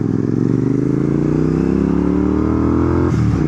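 A Royal Enfield GT650 motorcycle engine runs close by after restarting, a loud steady throb whose pitch creeps slightly upward, then a brief clatter near the end.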